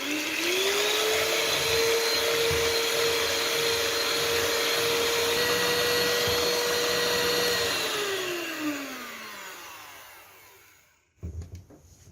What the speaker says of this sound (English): Mix the egg whites well.